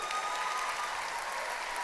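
Dense applause from a large audience in a big theatre hall such as the Grand Rex, a steady, even roar of many hands clapping at once, moderately loud and continuous.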